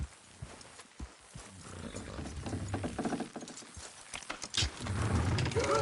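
Hooves clip-clop at a steady walking pace in a PS4 video game, several horses moving together pulling a load, with creaking and rattling gear, fairly quiet.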